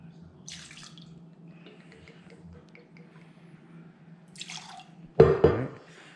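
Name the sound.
bourbon being poured into a glass for an Old Fashioned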